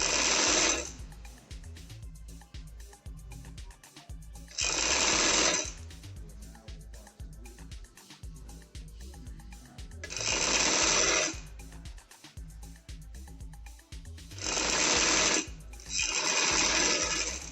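A sewing machine stitches an angrakha shirt in several loud bursts of rapid whirring stitches, separated by quieter pauses where the fabric is handled up close.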